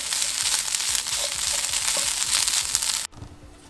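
Impossible ground meat frying in a pan, with a dense, steady sizzle and crackle alongside repeated scraping stirs, cutting off abruptly near the end.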